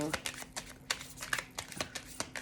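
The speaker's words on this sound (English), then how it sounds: "obviously pull the cards and shuffle live" Tarot cards shuffled by hand in a series of quick, crisp riffling bursts and soft taps, close to the microphone, with a faint steady hum underneath.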